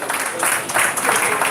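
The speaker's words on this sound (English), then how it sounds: "keep your hands, keep the applause going" An audience claps steadily for awardees returning to the lower stage at a community awards ceremony, continuous applause filling the room with dense patter and a faint voice underneath.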